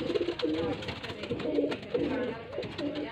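Sialkoti breeder pigeons cooing up close in a loft, a female among them, with repeated low throaty coo phrases in a steady rhythm while someone talks over the calls.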